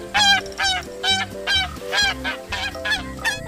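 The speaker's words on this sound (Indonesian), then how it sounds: "Di sini ada satu ekor angsa." A goose honks repeatedly in a steady run of loud, nasal calls, about eight in quick succession, close and clear with no talk over them.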